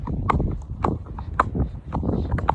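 Hooves of two horses being ridden out on a hack past cows, with steady clip-clop steps under someone talking over them throughout.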